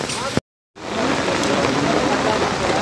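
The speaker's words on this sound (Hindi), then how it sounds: "बारिश भी लगातार चल रही है, चालू हो रही है।" Heavy rain pours steadily during waterlogging in Raipur Khurd, Chandigarh, a dense, close hiss broken by one brief silent gap, with a voice talking faintly in the background.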